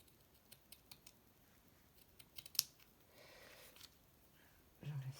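Scissors cutting paper for a junk journal, a string of faint quiet snips and clicks up close, followed by a soft rustle and a brief low murmur at the end.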